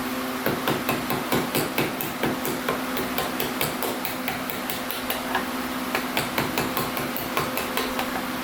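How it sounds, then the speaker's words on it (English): A chisel is struck in steady, evenly spaced blows as it hacks wood from a guitar body, each hit a sharp, close knock over a constant background hum. "just hack away at it with a chisel"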